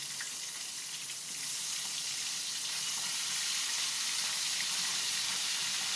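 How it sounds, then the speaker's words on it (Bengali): Fish sizzling in a frying pan, a dense steady crackle and hiss that holds for the whole stretch, close and fairly loud with no talking. "আর এক পিঠ ভাজা হয়ে যাক"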